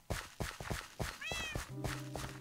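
Cats meowing in the Minecraft video game, several short pitched cries in quick succession amid other game sounds, close and fairly loud.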